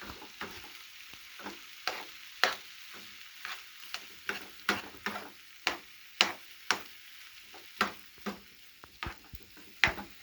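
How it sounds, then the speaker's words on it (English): A spoon stirs food sizzling in a hot pan, with a steady frying hiss under a series of sharp scraping clinks against the pan, spaced irregularly and close by. "Let me give this a good stir."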